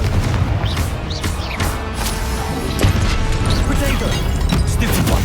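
In Hogwarts Legacy, Confringo explosion spells crash and boom in dense, loud combat with repeated bursts and clanking impacts.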